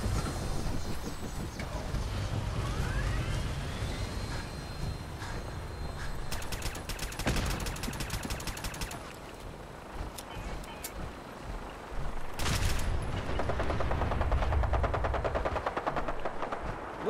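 Gunfire in the video game Fallout 4 during a vertibird landing, rapid automatic bursts and separate sharp shots over a steady engine-like drone, loud and close, with brief voices.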